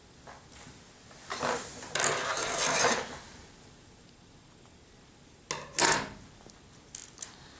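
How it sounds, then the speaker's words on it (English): Scissors snip sewing threads after a seam on a stuffed lamb toy, with a few close crisp cutting and handling bursts separated by quiet pauses. "you can cut off your threads and take out your pin"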